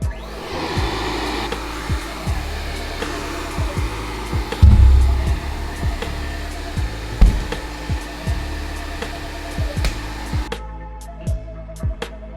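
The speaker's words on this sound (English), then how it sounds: "this sandblasting process is a very long process" Brake calipers and rotors from a Subaru STI Brembo set are sandblasted, producing a loud, steady rushing hiss of air and grit, punctuated by repeated sharp knocks and clunks of parts being handled.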